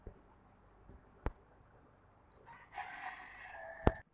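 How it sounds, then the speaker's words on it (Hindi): A Kadaknath breed rooster on a farm crows once, a drawn-out call rising out of quiet background rustle, preceded by a couple of sharp knocks and ending with a loud click. "ये है मुर्गे की कड़कनाथ ब्रीड।"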